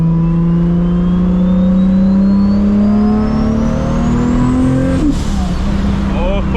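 A 1000 HP Toyota Supra MK4 with a big turbo accelerates hard from inside the cabin, its loud engine tone climbing steadily before a gear change near the end drops the pitch, with a faint turbo whine above it.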